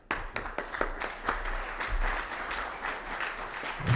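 An audience applauds at the close of a public lecture, a sustained round of dense clapping from many hands that carries at an even level throughout, with no speech over it.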